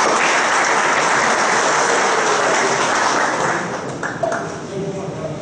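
A dense round of applause from an audience at a municipal council ceremony in Valparaíso, Goiás, honoring a military police major; steady, loud clapping fills the clip and tapers slightly near the end.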